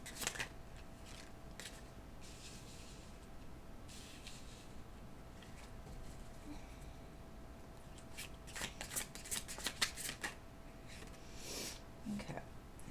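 Tarot cards are shuffled by hand, quiet riffling and sliding with bursts of crisp flicking toward the end, close but soft, with faint talk in places.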